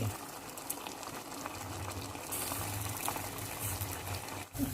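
Water boils with spaghetti in a pot for Thai tom yum seafood spaghetti, giving a faint, continuous bubbling and rushing sound close by.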